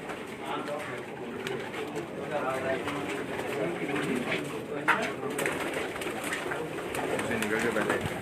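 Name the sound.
pigeons cooing on a rooftop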